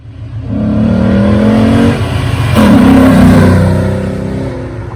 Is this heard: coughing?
no